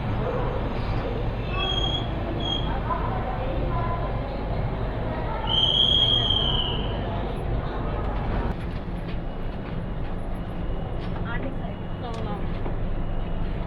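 A passing Palnadu/Simhadri Express train made of ICF coaches rumbles steadily nearby, with wheels squealing sharply around the middle of the pass and clattering rail noise throughout.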